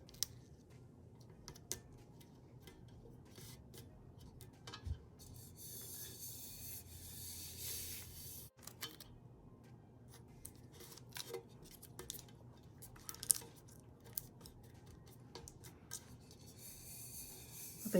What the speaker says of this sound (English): I think I better add tape here in the middle.